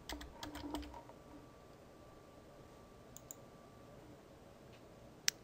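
Someone types a code on a computer keyboard: a quick run of soft key clicks at the start, then near-silence with a couple of isolated taps and one sharp click at the end, faint and close.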